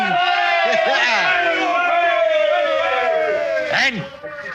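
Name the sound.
sailors cheering in radio drama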